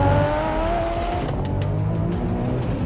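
VW Golf, a tuned hatchback in a drag race against a Porsche 911 Turbo S, launching hard in second gear, with a loud, close engine roar rising steadily in pitch as it accelerates, and no talking.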